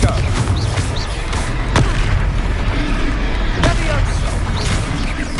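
Booming Confringo spell explosions in the game Hogwarts Legacy, a couple of sharp blasts punctuating a dense, rumbling battle din with voices calling out.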